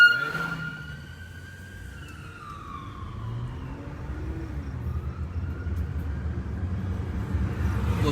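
An ambulance siren wails heard from inside a car, its pitch gliding up and down as it passes and fades, under the low rumble of the road and engine.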